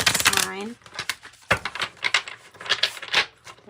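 A deck of tarot-style reading cards is shuffled by hand in quick papery riffles and taps. A voice speaks briefly at the start.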